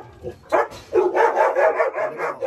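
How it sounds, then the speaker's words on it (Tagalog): A dog barks repeatedly in quick bursts, fairly close and loud, with a few short yelps between barks. "Maingay itong aso eh."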